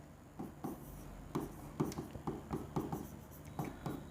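Handwriting on a board, a quiet run of short scratchy strokes in uneven bursts with brief pauses between letters, close and faint.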